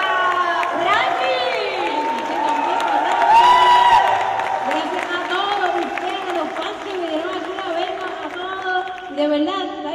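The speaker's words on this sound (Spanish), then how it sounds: "Aplausos para Franky" Crowd at Puerto Rico Comic Con cheers and applauds for ten seconds, with loud whoops, shouting voices and scattered clapping filling a live event hall.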